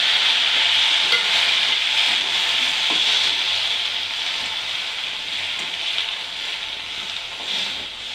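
Chopped tomatoes added to a pan for garlic chutney, giving a steady, close frying sizzle with light stirring scrapes that continue evenly without talk.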